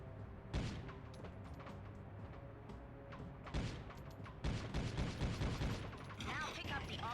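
Gunfire with ricochet bullets in the Judge Dredd: Dredd Vs Death video game, sharp shots in bursts with clattering mechanical echoes, growing busier toward the end.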